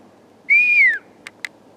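One clear human whistle signal sounds in the woods, a single sustained, slightly falling tone lasting about half a second, followed by a couple of faint short ticks in otherwise quiet surroundings.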